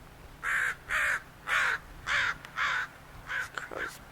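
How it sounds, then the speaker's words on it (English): An agitated crow caws about seven times in a steady rhythm, loud and fairly close, with one voice briefly overlapping near the end. "This crow's being upset."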